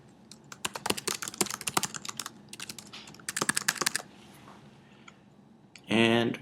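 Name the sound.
typing an email address on a computer keyboard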